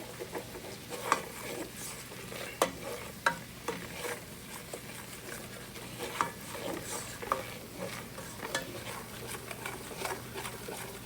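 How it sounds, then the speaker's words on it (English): A blonde roux stirred in a pan for nachos sauce, with a soft continuous sizzle under scattered scraping clicks of the utensil, moderately quiet and steady with no talking. "you want to kind of keep it moving so it doesn't burn to the bottom of the pan"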